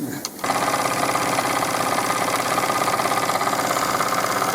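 A Wilesco D21 feed pump working on a D24 model steam engine gives a fast, steady mechanical chatter and rhythmic ticking, close and continuous once the engine noise settles in.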